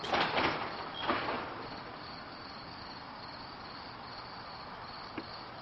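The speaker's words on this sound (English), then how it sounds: "And you can hear the crickets." Crickets chirp in a steady high drone through a quiet night outdoors, preceded by a couple of soft knocks and a brief door-like sound near the start.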